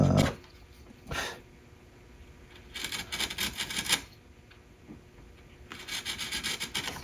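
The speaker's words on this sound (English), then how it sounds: "I've got a little carving tool here, it's number 1, that I can just come in here" A small carving tool cuts a 45-degree V groove into wood for drawer blades, making a few close scraping, rasping strokes separated by quiet pauses.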